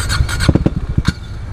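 A KTM Duke 390 motorcycle cranks but fails to start, giving a close, loud burst of uneven, sputtering starter pulses that stop abruptly.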